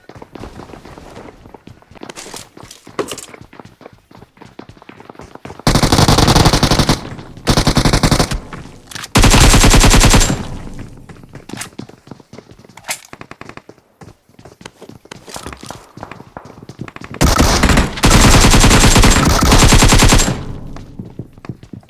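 Automatic gunfire from a mobile first-person shooter game rattles out in several loud bursts of a second or two, separated by quieter stretches of game sound and footsteps.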